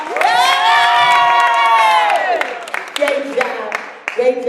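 An audience at a panel discussion cheers loudly for the panelists, with a sustained crowd roar and whoops and high children's shouts on top, fading into scattered voices and light clapping.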